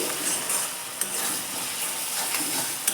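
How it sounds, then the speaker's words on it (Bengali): Spice paste being stirred in an uncovered pan, a steady close sizzle of frying with soft scraping from the spoon and a few light clinks against the metal, no voices. "এবার ঢাকাটা খুলে নিচ্ছি খুলে একটু নেড়ে দিচ্ছি"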